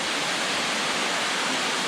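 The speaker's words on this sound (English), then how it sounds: "it's been a series of cascades all the way down, but this is really a nice big one" Large cascading waterfall on Beaver Brook in the mountains, a steady, dense rushing roar of falling water that fills the scene without pause, close and constant with no voices.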